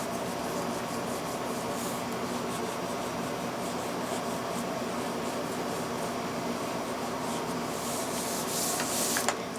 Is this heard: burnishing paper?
yes